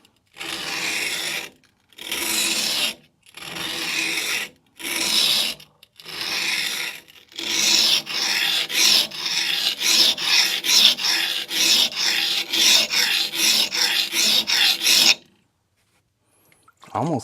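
A newly forged knife edge is worked on a coarse King 120 grit whetstone: several separate rasping strokes with short pauses give way to a long, steady run of fast back-and-forth scraping, close and loud, ending in silence.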